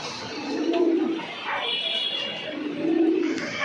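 A pair of Pakistani pigeons coo softly and low in two drawn-out phrases, close by, over a steady background hiss.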